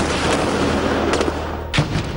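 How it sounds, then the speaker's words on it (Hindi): Gunfire crackles during an army encounter with terrorists holed up in a building, a dense, continuous roar of distant shots with a sharper report standing out near the end. "आज सुबह बिल्डिंग में छिपे आतंकवादियों ने फिर रुक कर गोलियां दागनी शुरू कर"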